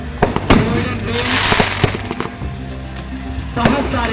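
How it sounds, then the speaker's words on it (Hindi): A fireworks spinning wheel (chakri) whirls and crackles at the Dewa Sharif fair, a dense, loud hissing roar with sharp pops and bangs throughout, heard close among fairground crowd noise. "आतिशबाजी की ये चरखी, इसमें बहुत शानदार चरखी चल रही है"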